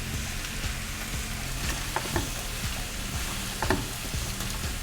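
Cauliflower and ground pepper sizzle and fry in a pan, with steady crackling and a few louder scraping stirs as the cauliflower pepper fry is tossed.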